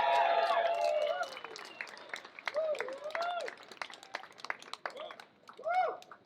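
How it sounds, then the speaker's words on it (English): Applause from onlookers at a taco eating championship, light scattered clapping that fades out under an announcer's amplified voice talking over it. "How about a round of applause for all of our contestants?"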